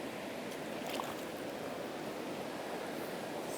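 An Austrian trout river flowing in light drizzle, a dense, even rush of water close by that stays constant and unbroken for the whole stretch, with no voices.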